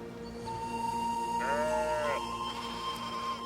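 A single sheep bleat rises briefly in the middle of a steady droning background, moderately loud and wavering, with no talking.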